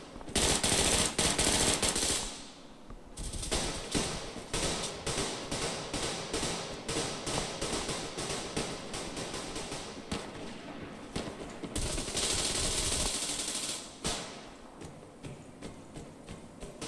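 Rapid automatic gunfire from the shooter game Survarium, fired close and loud in long, crackling bursts with brief pauses. Scattered single shots come between the bursts.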